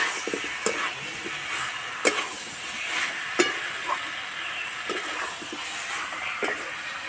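Fried potatoes go into a spiced jackfruit curry in a pan, with a continuous sizzle under scraping stirs and occasional sharp utensil knocks against the pan, close and moderately loud.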